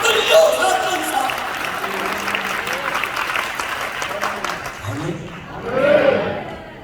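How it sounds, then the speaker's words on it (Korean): Church congregation applauding during a sermon, a loud burst of clapping that swells and fades, then returns briefly, with voices calling out through it. "박수."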